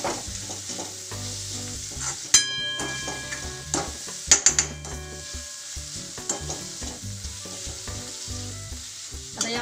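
An ajwain tempering with chopped coriander sizzles in a pan while a spoon stirs it, producing crackling frying with several sharp metallic clinks and scrapes against the pan.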